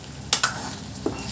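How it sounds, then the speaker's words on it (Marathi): Drumstick pieces being stirred into masala in a pan, a few brief scraping knocks of the spoon over a soft, steady sizzle. "मसाल्यामध्ये पूर्ण शेंगा मिक्स करून घ्यायच्या"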